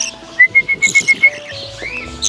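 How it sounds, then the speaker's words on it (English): A person whistles a quick series of about seven short, evenly spaced high notes, followed by a longer steady tone, close by with faint bird chirps. "We will just make a whistle. I train them to hear this whistle"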